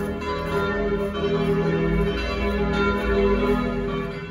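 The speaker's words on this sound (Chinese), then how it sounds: "教堂响起来了钟声" Church bells peal continuously in a rich, overlapping ring with sustained resonant tones, steady and fairly loud, with no talk.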